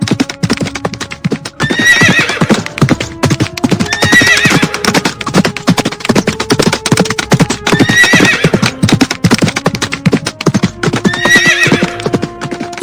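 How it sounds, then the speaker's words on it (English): A horse in a cartoon story runs wildly, neighing loudly several times over the steady, rapid clip-clop of galloping hooves, with no talking. "he saw that a princess's horse was running wildly"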